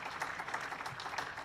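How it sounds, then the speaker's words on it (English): An audience at an agricultural college golden jubilee celebration claps for Mr. Chandrasekhar, a faint, steady patter of many hands heard from a distance. "I think we need to give a big clap, big hand to Mr. Chandrasekhar"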